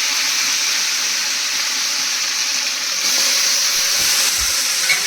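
Raw chicken pieces tossed into a pan of ginger-garlic masala paste over a village wood-fired clay stove while cooking chicken biryani, giving a steady, loud, close-up sizzle and hiss that swells slightly partway through, with no talking.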